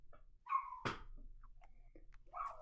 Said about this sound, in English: apparently Ethan's dog is barking its little head off